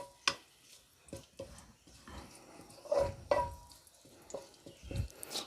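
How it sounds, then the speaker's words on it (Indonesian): Ginger being stir-fried in a tablespoon of hot cooking oil, with soft sizzling and a few sharp utensil scrapes and knocks against the pan at close range. "Ini jahenya kita tumis dulu."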